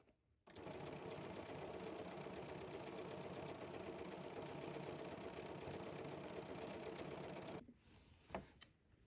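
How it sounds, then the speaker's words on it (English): A sewing machine stitching runs at a steady even pace for about seven seconds, loud and close, then stops, followed by a few small clicks and handling sounds. "The machine will not let you stitch super duper fast."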